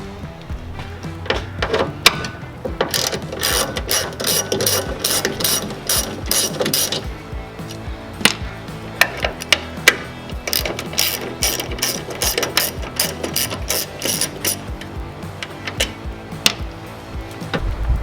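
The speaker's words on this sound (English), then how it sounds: "all you need for this is a 10mm socket. You're gonna take out this bolt and this one." Ratchet with a 10mm socket backing out the tail light bolts on a Toyota Tacoma, giving close, steady runs of rapid pawl clicking that continue almost without a break, with no voices.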